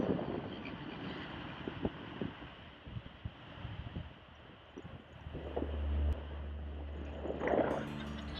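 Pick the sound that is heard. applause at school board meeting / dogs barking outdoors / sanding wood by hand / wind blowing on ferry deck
wind blowing on ferry deck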